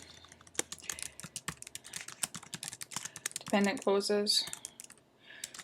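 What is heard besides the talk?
typing on a computer keyboard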